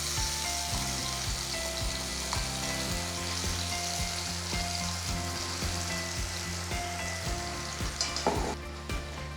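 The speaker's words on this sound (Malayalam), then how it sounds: "ആ പച്ച മണം മാറുന്ന വരെ നന്നായിട്ട് വഴറ്റിയെടുക്കുക." Onion paste and ground masala with cardamom sauté in hot oil for biryani, sizzling steadily at close range, with scraping stirs and spoon knocks against the pan.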